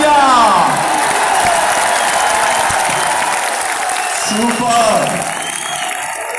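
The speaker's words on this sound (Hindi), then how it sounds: "तालियां" Audience applause at a stage event, a dense steady clapping wash throughout, loud and close, with a voice speaking over it at the start and again near the end.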